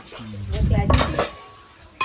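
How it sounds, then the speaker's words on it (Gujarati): Dishes and cutlery clatter and clink close by as they are washed, with a brief murmur of a voice mixed in. "આજ તો શીતલનો વારો વાસણ ધોવાનો."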